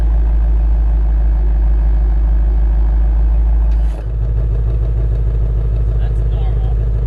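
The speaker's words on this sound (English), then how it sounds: "this is the normal exhaust note right here" A Ford Mustang Shelby GT350 idles in its normal exhaust mode, a loud, steady low burble close by, with a brief dip midway as the mode switches.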